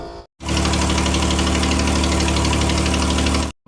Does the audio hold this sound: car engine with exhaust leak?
yes